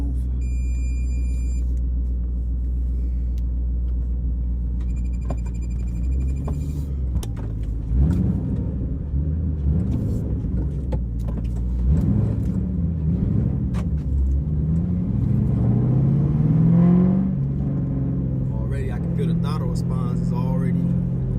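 A 2007 Ford Mustang GT with a Bama SCT tune idles with a deep steady rumble, then pulls away and revs through several rising engine swells, heard from inside the car with someone talking over it and some window or interior noises.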